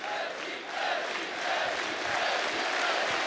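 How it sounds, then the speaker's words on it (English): An esports arena crowd cheers in a broad, roaring wash that swells slightly and holds steady for a few seconds, with no clear talk over it. "Crowd is getting pumped"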